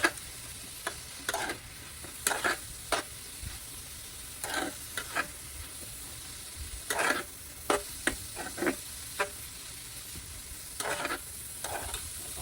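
Eggs fry in a pan under a faint, constant sizzle while a utensil scrapes and taps against the pan in scattered short strokes, quiet and close.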